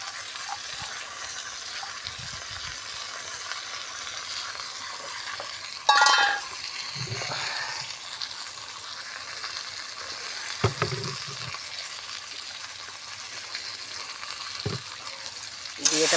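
Fried jackfruit and rice sautéing in a pan, a steady sizzling hiss throughout with a sharp stirring clatter near six seconds and occasional scrapes of the spatula.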